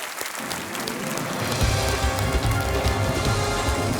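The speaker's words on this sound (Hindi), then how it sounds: "तो जोरदार तालियों के साथ उनका स्वागत किया जाए।" A television quiz show studio audience bursts into loud applause to welcome a contestant, building from a short lull into a dense, sustained roar of clapping close by.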